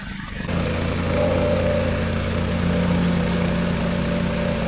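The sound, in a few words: compactor machine compacting gravel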